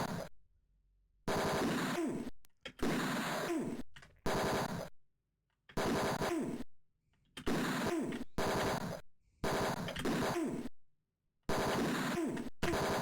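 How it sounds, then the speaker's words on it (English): Machine gun fire in the video game Tex Murphy: Mean Streets, loud repeated bursts of automatic gunfire separated by short silences, about nine bursts across the span, with no talking. "Why am I in like the worst firefight?"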